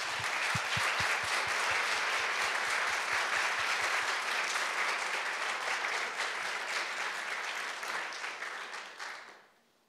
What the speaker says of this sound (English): Let's have one more round of applause for all 5 teams